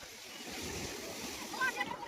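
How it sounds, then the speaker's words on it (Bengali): Rough, churning sea waves at Digha beach after a downpour, a broad rushing roar of surf with wind buffeting, steady and moderately distant, with a voice faintly heard over it. "দীঘা সমুদ্র পুরো উত্তাল হয়ে গেছে একদম"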